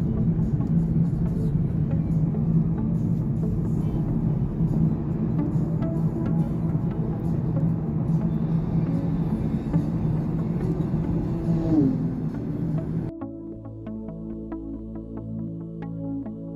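Car engine running at a steady rumbling drone for most of the stretch, then changing abruptly into a lower, quieter idle tone near the end, with no talk over it.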